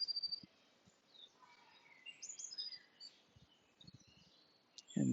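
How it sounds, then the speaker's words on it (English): Outdoor ambience with faint bird chirps and tweets scattered throughout and a soft, low wind rumble underneath; a couple of brief louder bumps near the end, no talking. "So you can also hear the birds, the wind."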